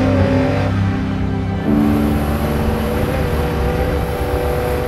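A car accelerates up a road, its engine powering up as the revs climb through a loud, continuous roar that shifts pitch partway through, with no voices over it.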